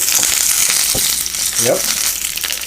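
Chillies frying in hot oil with popped mustard seeds for a beef curry: a loud, steady, close sizzle throughout, with faint crackles and a brief low murmur partway through.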